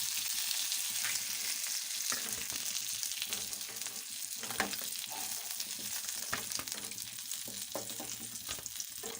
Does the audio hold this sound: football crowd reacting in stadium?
no